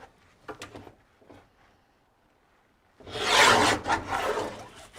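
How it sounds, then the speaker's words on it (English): A blade scrapes and rasps through paper in a loud, sustained stretch, after a few softer scratchy strokes earlier on. "I'm going to cut it with my cutter, not with my scissors."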